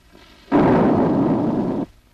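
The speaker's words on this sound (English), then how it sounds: "The instructor pulls the pin. The grenade is now hot." A hand grenade detonates in a single blast, a loud, dense roar that lasts over a second and then stops abruptly.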